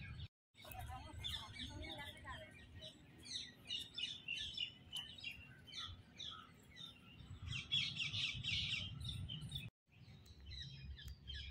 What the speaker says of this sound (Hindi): कितनी बढ़िया पंछियों की और गिलहरी जो भी हैं यहाँ पर सभी, कितनी अच्छी आवाज आ रही है